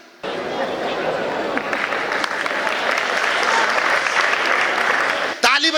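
An audience at a comedy show bursts into sustained, dense clapping that swells and holds for several seconds before cutting off, with some crowd noise mixed in.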